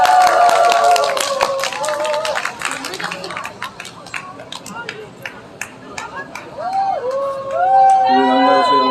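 A crowd at an outdoor climate justice rally claps as speakers are welcomed to the stage, a scattered patter of hands under voices and chatter that thins out midway.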